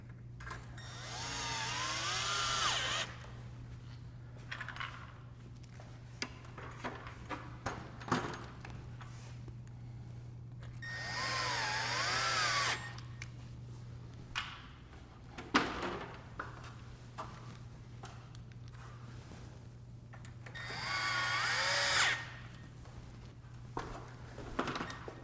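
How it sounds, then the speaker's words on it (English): A power drill drives screws into the corners of a porch window frame during a direct installation, three sustained whirring bursts of a few seconds each, separated by quieter handling knocks and clicks over a steady low hum. "So I'm gonna get the 4 corners screwed in now."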